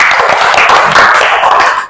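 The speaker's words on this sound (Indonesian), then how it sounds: "Tepuk tangan dulu." A classroom of schoolchildren clapping hands together during a lesson, a dense, steady burst of many small claps lasting about two seconds before trailing off.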